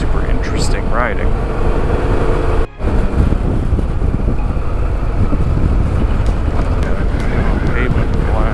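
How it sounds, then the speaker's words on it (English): Strong wind roars and buffets against the microphone without pause while riding in Northern California, with brief muffled voice fragments and a short dip partway through. "It got windy"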